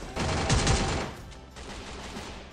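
In the Free Fire video game, a quick burst of close, sharp gunshots rattles out in rapid succession, then fades into a softer echoing tail.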